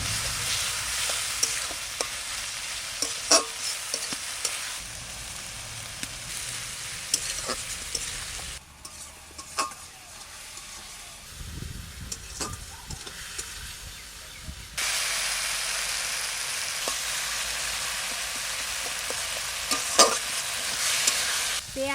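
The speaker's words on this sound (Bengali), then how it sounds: "পেঁয়াজ আর টমেটো সুন্দরভাবে ভাজা হয়ে গেছে" Onion and tomato with a little salt fry in a pan, giving a loud, continuous sizzle broken by stirring scrapes, with a quieter stretch midway before the hiss swells again.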